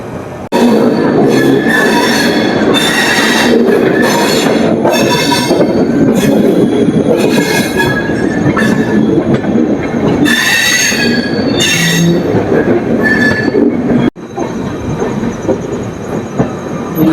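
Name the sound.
train running, Ernakulam SF Express from Bangalore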